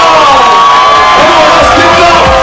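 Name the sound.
applause and cheering for the honoree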